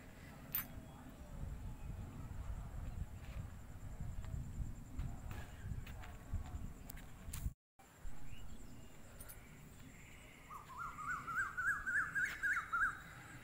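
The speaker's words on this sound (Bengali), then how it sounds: "কত সুন্দর পাখি ডাকছে খুঁ খুঁ করে" Birds call outdoors over a low rumble of wind and movement, with a rapid run of repeated chirps near the end.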